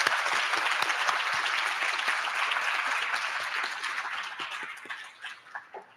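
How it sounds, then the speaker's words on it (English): Dense audience applause at a senior honors dinner, many hands clapping together loudly and continuously, then thinning into a few scattered claps as it dies away. "Can we give a round of applause for that?"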